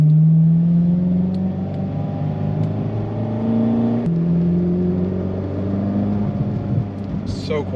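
A Ferrari engine with its exhaust valves closed hums at a smooth, subdued, steady pitch while the car drives on, close and fairly loud with little variation.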